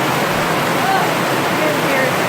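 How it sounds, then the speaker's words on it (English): Heavy hurricane rain runs off foam and spills into catch bins, a steady, loud, continuous rush of splashing water with no pauses. "we got like some foam up here to direct the water down into these bins to catch it"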